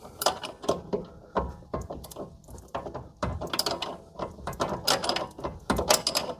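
Wrench working the upper sway bar mount nut on a 2011 Chevy Malibu, a run of quick ratcheting clicks in bursts with short pauses, close and fairly loud with no talk.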